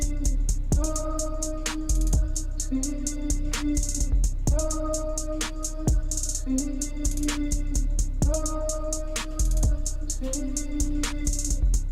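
A bare-bones programmed beat loops steadily with crisp hi-hat ticks over punchy low drum hits and a soft repeating tonal pattern, with no voices.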